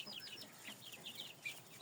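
Chickens, including white hens and bearded, feather-footed birds, give soft, high-pitched clucks and chirps that run steadily throughout at a faint, slightly distant level, with no talk.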